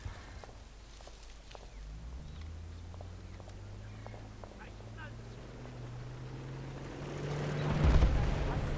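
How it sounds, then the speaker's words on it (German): A huge explosion bursts out near the end in Battlefield Bad Company 2, a loud broadband blast with a low rumble that follows earlier scattered game noises and low engine-like drones, with players talking throughout. "Riesenexplosion."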